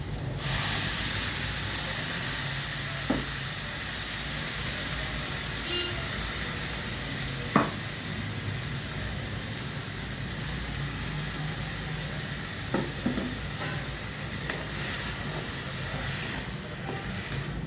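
Tomato curry with onions cooks in a pan, giving a steady hiss of steam and sizzle throughout, broken by a few sharp utensil clicks.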